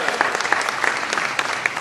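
Applause from guests at a childcare trade show gala dinner for a sponsor: a brief, dense burst of clapping from a room full of people with a few sharper individual claps standing out.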